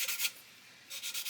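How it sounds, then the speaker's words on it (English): Two bursts of dry, gritty sanding strokes from a sanding stick on a plastic scale model, with a short pause between, close and fairly quiet, rubbing rhythmically against a hard surface. "So we just come and sand that down nicely now."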